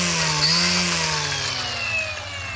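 A Dewalt 20V Max lithium-ion brushless cordless string trimmer runs on its high setting, giving a loud, steady whine close by. The pitch shifts slightly and stays continuous, with no talk.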